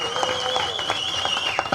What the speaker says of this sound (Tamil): அவ்வளோ கைத்தட்டல் வருது.